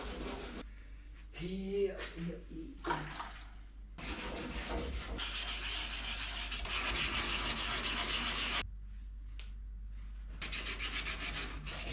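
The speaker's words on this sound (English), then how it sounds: "So for now, I'll just continue to sand for a little while longer." Primer on a car firewall is sanded by hand with steady, close rubbing strokes and brief breaks, while someone says a word at the start.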